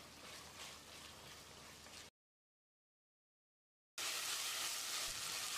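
About 200 g of small carrot pieces sauté with tomatoes in a pan for carrot kurma. A steady sizzle is broken by a silent gap, then returns louder and brighter, with no talking.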